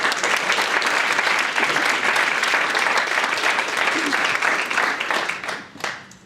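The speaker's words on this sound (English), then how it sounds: "Round of applause." A full round of applause from the audience at a teen awards celebration, dense even clapping that holds steady for several seconds, then thins and fades out at the end.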